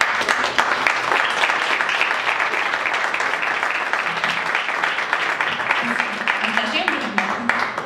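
An audience at a fantasy film festival presentation breaks into strong, sustained applause, dense clapping holding steady for several seconds with a few voices rising near the end.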